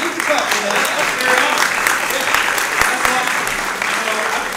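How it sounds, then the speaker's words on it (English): An audience in a building breaks into sustained applause, a dense wash of clapping that holds steady for several seconds while voices call out over it. "So, hey, you can clap for that."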